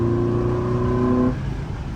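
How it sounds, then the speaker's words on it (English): A 1998 Acura Integra LS engine runs steadily with a strong, buzzy harmonic tone close by. After about a second and a half the pitch drops and the note settles lower as the revs fall. "It's such a nice sounding car."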